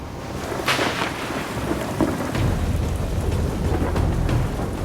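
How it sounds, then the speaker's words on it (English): A thunderstorm in the Alaskan bush pours heavy rain with a steady, dense hiss, as wind gusts through. A rumble of thunder rolls under the downpour early on, close and loud. "Angry skies are lighting up the horizon, and the wind speeds are ramping up again"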